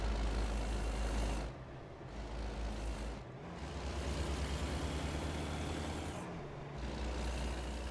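A truck engine in the American Truck Simulator video game rumbles with a low, steady drone, dipping briefly twice as gears change and then rising again, with a broad hiss laid over the engine throughout.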